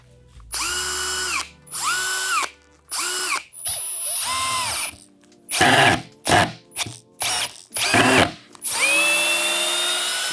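A Metabo cordless driver drill whirs up in repeated close, loud bursts, several sustained runs followed by quick short pulses and a final longer spin, with brief silences between bursts.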